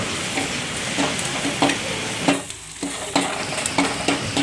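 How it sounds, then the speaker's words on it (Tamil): Steady sizzling of onions frying in a pan, with the clink of a spoon stirring now and then and a brief dip in the hiss midway. "வெங்காயம் நல்லா தாளிக்கணும்"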